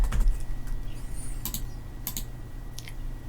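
A computer keyboard clicks in a few sparse, quick keystrokes, light and close, over a low steady hum, with no one speaking.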